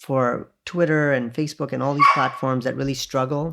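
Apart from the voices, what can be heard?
dog barking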